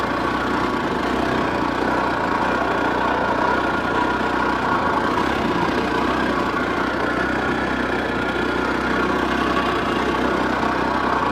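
A motorbike engine runs steadily in a water-fuel experiment, a constant loud mid-pitched drone that idles on without cutting out for the whole stretch.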